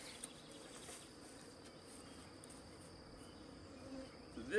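Honey bees buzz around an open beehive in the rain, a soft, steady insect hum held at low level throughout, with a slightly louder swell near the end.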